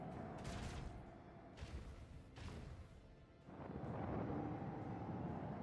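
Missile strikes and explosions hitting enemies in the Warhammer 40,000 game Rogue Trader, a run of heavy booming bursts and rumbling blasts that roll on loudly through the whole stretch with no talking.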